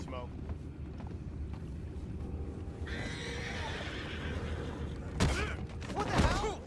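Horses in the Red Dead Redemption video game whinny and snort near the end, over a steady outdoor ambience with soft hoof clops, as a voice speaks briefly.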